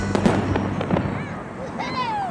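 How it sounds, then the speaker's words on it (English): Fireworks burst at an outdoor charity campout event with food trucks, a rapid rumbling crackle of pops with a whistling rocket rising near the end, close and fairly loud. "Welcome to the Preston and Steve Camp Out for Hunger Food Trucks and Fireworks Extravaganza"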